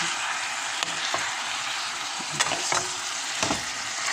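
Chicken pieces sauté with spices in a pan, a steady close sizzle broken by several sharp scrapes and clicks of stirring, with no voices.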